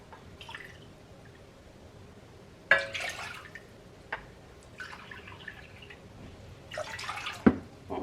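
Water being measured and poured for an onion brine in a home kitchen, arriving in a few separate short splashing pours with quiet gaps and small drips between them, close and fairly soft.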